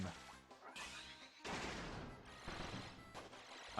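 Kirby's beam ability fires in Kirby's Return to Dreamland Deluxe, a crackling electric zapping repeated in several bursts with short gaps between them.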